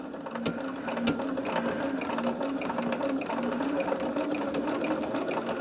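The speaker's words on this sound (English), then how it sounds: "now I'm sewing this at 1/4 of an inch" A sewing machine runs steadily and close by, stitching quilt binding at a quarter inch, a fast continuous mechanical whirr with rapid needle clatter that never stops.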